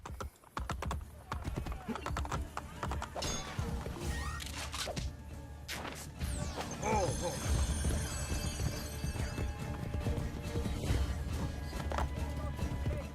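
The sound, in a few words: horse galloping in Assassin's Creed Brotherhood video game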